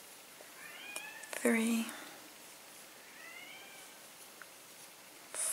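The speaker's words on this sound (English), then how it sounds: "I don't know if you can hear my cat." A cat meows repeatedly from just outside a closed door, asking to come in. A few rising cries come through at moderate distance, partly under a person's brief counting speech.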